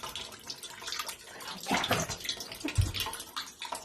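Water gushes and splashes out of a front-load washer in uneven bursts, a draining flow with gurgles and a few louder surges.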